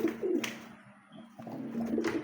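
A male Bombay pigeon coos in repeated low, throaty phrases, near and fairly soft, with short pauses between calls.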